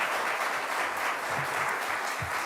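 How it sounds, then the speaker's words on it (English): Steady, dense applause from an audience at a New York youth mental health funding event with the governor, sustained and even throughout with no talking over it. "Let's give a round of applause to everyone in this room who cares enough about our kids"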